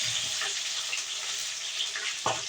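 Green chillies fry in hot oil with a continuous close sizzle and crackle, and a brief clatter near the end, no speech.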